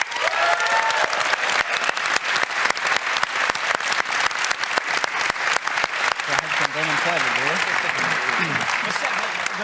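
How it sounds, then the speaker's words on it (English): Loud, sustained applause from a Dota 2 esports crowd at The International 2019, dense clapping throughout with some cheering voices rising near the end. "can we get a round of applause for Anna?"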